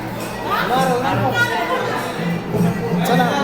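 Crowd chatter outside a Mahadev temple where people gather to offer coconuts, a steady murmur of many overlapping voices nearby, with talking throughout.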